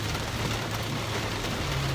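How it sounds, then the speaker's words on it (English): Steady rain falling on a surface, a dense continuous hiss with a low rumble beneath, moderately quiet and even throughout with no voices. "over here it's dark and raining"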